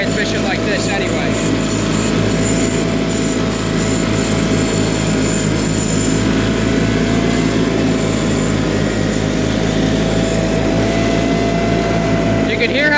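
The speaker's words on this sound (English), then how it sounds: "You can hear how the motor over revs when I hit a high spot, or I come out of a high spot and the motor picks back up" John Deere 316 lawn tractor engine droning steadily while mowing a field, a constant close mechanical hum with pulsing throb, pitch shifting slightly as load changes.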